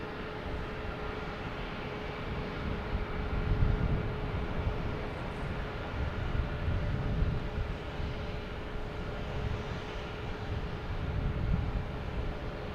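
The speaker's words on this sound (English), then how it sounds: "This is JetBlue coming in from San Juan. A220, flight 862." A JetBlue Airbus A220 airliner arriving at Boston Logan, heard as a steady, moderately faint low engine rumble and roar that swells slightly at times, with no talking.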